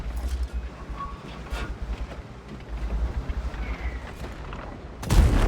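Booming tank cannon shots fire in a video game amid a steady rumble of engine and battle noise, with one loud, close blast near the end.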